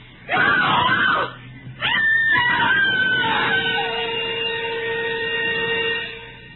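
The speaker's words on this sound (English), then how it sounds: "A woman screamed and cried for help on the Wayfield Common." A woman screams, wails and sobs in distress on an open common in a radio drama, loud and close, her voice breaking between anguished cries with no other talk.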